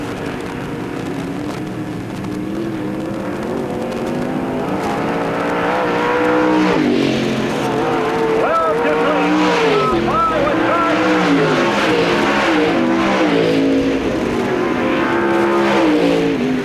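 Race car engines at a dirt track raceway run continuously and loudly, revving up and down with a snarling, shifting pitch as the cars circle. Crowd noise and an announcer's voice sit underneath.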